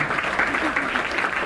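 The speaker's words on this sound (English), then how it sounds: "give a round of applause to our beautiful mistresses of ceremony" Audience applause for the mistresses of ceremony at the Miss Maui pageant, a brief, steady burst of many hands clapping at close range.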